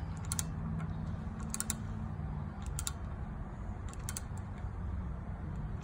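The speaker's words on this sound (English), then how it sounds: "pretty much you just crank this and it's just gonna flare it" A hand-cranked flaring tool forms a 37-degree flare on a hydraulic hard line for a lowrider setup, giving repeated sharp ratcheting clicks in small clusters over a steady low background hum, close and fairly quiet.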